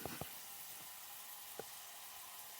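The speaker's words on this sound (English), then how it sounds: "that's a nice sizzle there. I want you to hear that noise first" Fat sizzles in a pan while silverside (corned beef) is cooked for a pot roast, a soft, continuous frying hiss with a few brief clinks and taps from stirring.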